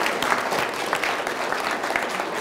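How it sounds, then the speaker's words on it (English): Audience of students and guests at a junior high school mayoral forum giving a big round of applause for the official timekeeper, a continuous dense clatter of many hands clapping at close range throughout. "How about a big round of applause for Will?"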